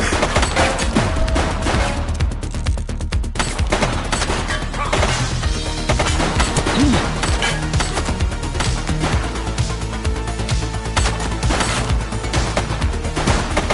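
Gunfire in the PS5 police game The Precinct, with dense rapid shots and crashes layered over loud game sound and music throughout.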